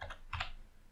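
Brief burst of keystrokes on a computer keyboard, a few quick clustered taps near the start and middle, close and fairly quiet, no voices.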